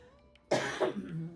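One sharp, harsh cough up close, followed by a brief rough trailing exhale, with no speech.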